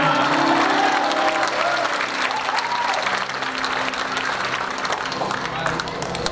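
Sustained applause from a church anniversary gathering crowd, loud and dense clapping throughout, with voices faintly mixed in.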